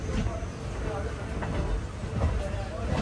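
Passenger train at Poonkunnam railway station in Kerala, a continuous low rumble and rolling clatter heard from inside the carriage, with some faint hiss and distant voices.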